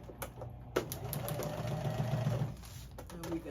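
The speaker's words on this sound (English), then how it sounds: "I'm gonna sew this down 2 or 3 times. Back and forth." Short burst of a sewing machine stitching elastic down back and forth, a steady close mechanical whir that stops briefly and resumes, alone without speech.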